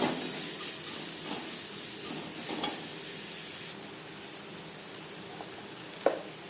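Four medium chopped onions fry in hot oil for a tilapia fish curry, giving a steady close sizzle and hiss with a few soft stirring scrapes and no talk.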